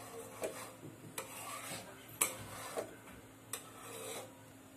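Mango mawa barfi mixture with milk powder stirred in a pan, giving soft scraping and rasping strokes with a few sharper clinks of the spoon against the metal, low and close with no voices.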